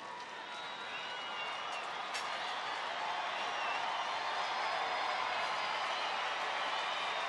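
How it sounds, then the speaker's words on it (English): A large baseball stadium crowd at a Baltimore at Texas game cheers steadily for pitcher Nathan, a broad, sustained roar of voices and clapping that slowly swells, distant and even throughout. "Crowd getting behind Nathan."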